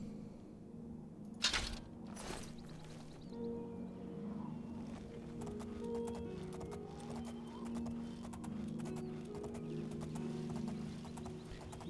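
Horse hooves clip-clop in The Elder Scrolls IV: Oblivion video game, a quiet steady stream of hoof steps after a couple of sharp clicks, alone with faint game ambience.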